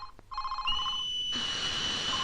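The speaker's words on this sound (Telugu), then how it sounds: "ఒరే సుధా ఆ ఫోన్ ఎత్తరా" An electronic telephone ringing indoors in a busy household, a repeating bright ring close by that gives way to a steadier, louder tone partway through.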